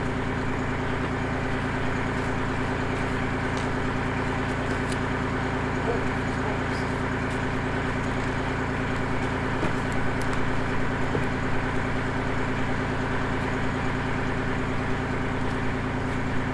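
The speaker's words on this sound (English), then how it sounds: "while the tractor's warming up" A compact tractor engine idles while warming up at a sawmill pad work site, a steady low droning rumble that stays constant and fairly close throughout.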